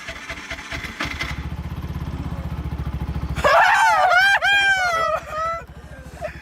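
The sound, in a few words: motorcycle engine being started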